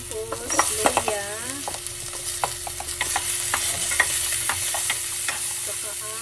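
Garlic and ginger sauté in a hot pan, a steady loud sizzle running throughout with repeated scrapes and clinks of a utensil stirring, close up and without any talking.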